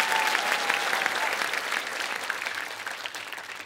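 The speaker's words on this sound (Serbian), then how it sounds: "ja bih ovu mladu devojku podržao još jednim aplauzom" A studio audience at a televised singing show applauds a young female singer, with loud, dense clapping that fades slightly toward the end and no voices over it.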